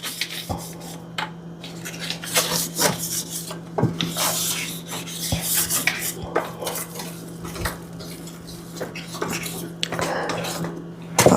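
Greasing a metal baking pan for Bajan sweet potato pudding: repeated rubbing and scraping strokes with scattered clinks of metal and utensils, close and moderately loud over a steady low hum, with no talking.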